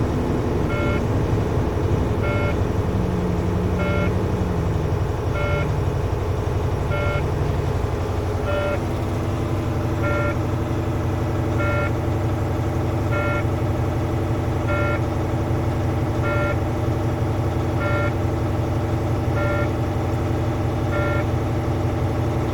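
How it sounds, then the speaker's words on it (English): A CDL truck's diesel engine revs steadily to rebuild air brake pressure, a loud continuous drone with a pitch rising early on, while a regular warning beep repeats about every two seconds throughout. "I'm going to step on my gas to build air back into my air tank."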